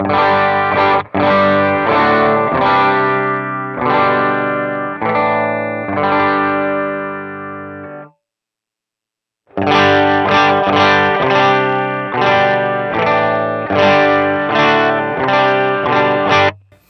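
Electric guitar played through a Timmy overdrive and a Line 6 Helix cab impulse response, chords ringing with a warm distorted tone, a brief silent pause in the middle, then more strummed phrases.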